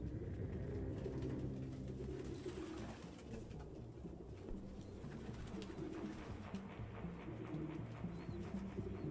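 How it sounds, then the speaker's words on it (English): Pigeons coo steadily in a video game, a dense, low, continuous cooing from many birds filling the scene with a constant background rumble and faint clicks, with no speech. "No human could live with all these fucking pigeons."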